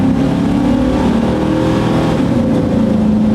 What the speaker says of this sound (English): We'll get her straightened out and then give her some gas. Let's to the floor.